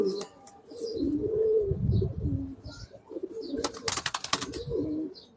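Pigeons coo steadily at close range in a loft, their low, rolling calls repeating alongside a few chirps, with occasional sharp rustles and clatter among the birds.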